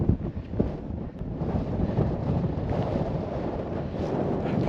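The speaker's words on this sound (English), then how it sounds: "Probably quite windy" Wind buffets the microphone in a continuous low rumble, gusting unevenly with no other clear sounds.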